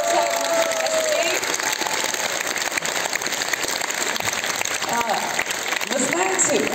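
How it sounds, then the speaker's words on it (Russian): Audience at an event gives enthusiastic, stormy applause to departing guests: loud, continuous clapping throughout, with a voice talking over it and a few cheers mixed in. "Мы бурными аплодисментами провожаем наших гостей."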